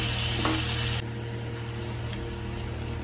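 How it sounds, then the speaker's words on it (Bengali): Potatoes frying in a pan give a dense, steady hiss of sizzling oil that drops suddenly in level partway through and then carries on evenly, close by with no speech. "আলু ভালোভাবে ভেজে নিয়েছি,"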